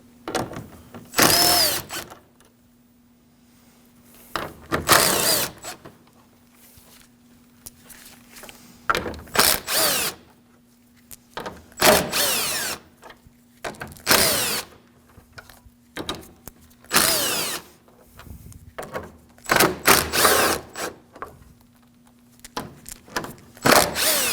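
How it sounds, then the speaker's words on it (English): A power tool spins out eleven 10mm bolts along the top of the front grille on a 2016–2022 Honda Pilot, repeated short loud whirring bursts separated by quiet gaps. "We have 11 10mm bolts along the top of the grille here. We're going to go ahead and remove those."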